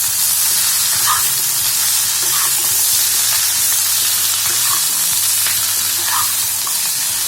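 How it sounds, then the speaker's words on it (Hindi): Spices with Kashmiri red chili frying in a pan as they are stirred, a loud continuous close sizzle with occasional scraping of the spoon, no talk. "इसको अच्छे से चलाएंगे।"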